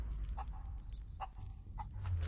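Chickens clucking in the video game Rise of the Tomb Raider, a few short separate clucks at moderate distance over a low steady game ambience.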